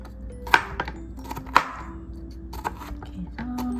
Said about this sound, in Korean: 피클도 썰어 볼게요